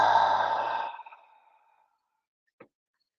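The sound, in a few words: person exhaling during a breathing exercise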